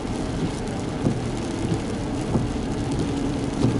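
Steady rain and road noise fill the inside of a moving car on a Kansas drive, a dense continuous hiss with soft low rumble and occasional light thumps, and no talking.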